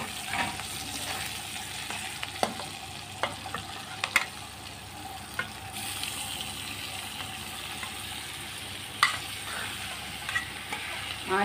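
Macaroni stir-fried in a pan with green chillies, black pepper and capsicum gives a steady, close sizzle, broken by soft scraping and stirring clatters throughout.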